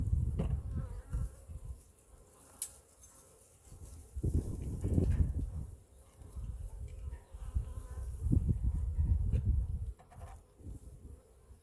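Honeybees buzz around a hive outdoors, a steady low drone swelling and fading in several waves as the insects fly close by and drift away, with no talking.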